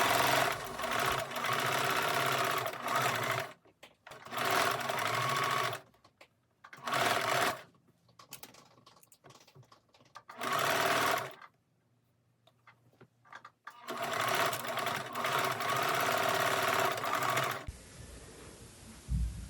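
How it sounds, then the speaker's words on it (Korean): A sewing machine stitches the crown panels of a winter trapper hat along the seam line in repeated loud, rapid whirring runs of a few seconds each, broken by short quiet pauses. "크라운의 겉면도 안감과 마찬가지로 같은 방법으로 미리 선분을 그려놓고 시접선을 따라서 정확하게 박음질을 해줍니다."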